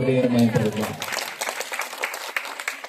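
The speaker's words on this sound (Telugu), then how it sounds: "చప్పట్లు" Congregation applause during a church Christmas sermon: a short spoken voice gives way to a burst of crowd clapping that carries on at a steady level to the end.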